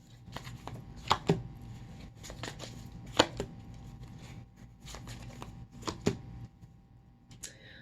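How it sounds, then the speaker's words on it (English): Tarot cards being shuffled and drawn from a deck, soft close riffles and flicks with several sharper snaps spaced irregularly, quiet and without voices. "Pull a few tarot cards."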